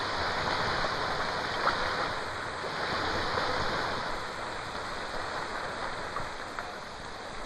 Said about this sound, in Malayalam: മഴ